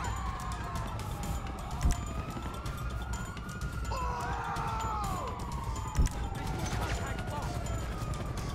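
A wailing police siren in GTA 5 sweeps up and down steadily throughout a car getaway, fairly loud and continuous with a couple of short thumps, while a voice talks over it.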